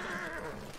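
A horse neighs in a video game, a single short, loud whinny close by with no talk over it.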